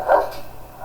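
A single short dog bark rings out at a dog rescue centre in Spain, one clear yelp near the start, then fading into quiet background.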